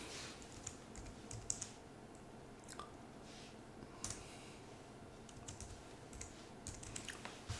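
Quiet typing on a computer keyboard while searching for Synaptic Package Manager in Linux Mint 22.1 Cinnamon, with scattered light key taps in irregular bursts over faint background hiss.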